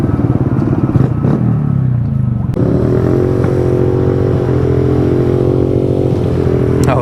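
Mini motorcycle engine, a Honda Grom or Kawasaki Z125, droning steadily and loudly up close while riding, with a brief rev change early on and a constant buzzing tone throughout.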